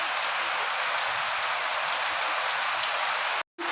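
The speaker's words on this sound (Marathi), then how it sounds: "पाऊस भरपूर असा मोठा पाऊस यायला लागला" Heavy rain pours steadily in a dense, even hiss that floods the scene, cutting out for a brief instant near the end.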